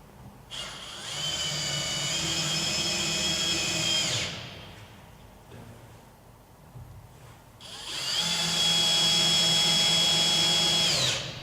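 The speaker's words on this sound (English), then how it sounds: "pre-drill through the round holes on the striking plate" A power drill pre-drills holes through a metal door striking plate in two bursts of high, whining motor noise separated by a quieter pause, each run lasting a few seconds and heard close up.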